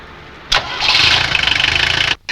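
A car engine cranks with a sharp burst, catches, and settles into a loud, pulsing idle for over a second before cutting off abruptly.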